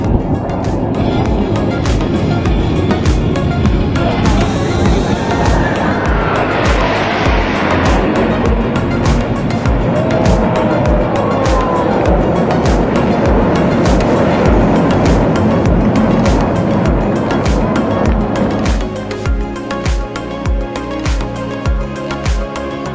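Navy Blue Angels jets performing individual brake turns over Aquatic Park during San Francisco Fleet Week 2016, a loud continuous roar of jet engines that swells and shifts for over twenty minutes' worth of seconds, easing slightly near the end.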